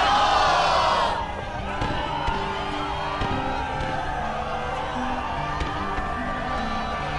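Crowd in Kingdom Hearts 2 cheers for Setzer, a loud swell of shouting voices at first that settles into a sustained, murmuring roar with scattered calls.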